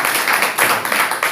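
A crowd applauds a former Jehovah's Witness, dense clapping running steadily throughout with a few swells in loudness, no voices audible.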